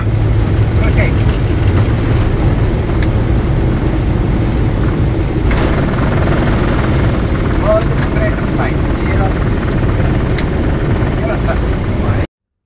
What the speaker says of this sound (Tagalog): hindi ako magsasawang panoorin ng takeoff and landing